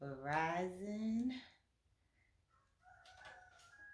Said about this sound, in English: that rooster, it be going off at any time of the day